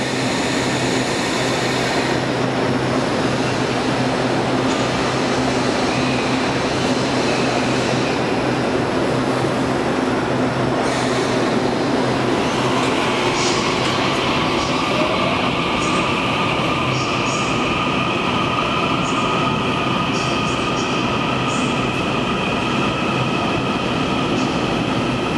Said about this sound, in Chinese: 23284次，台中站开车，开往后里。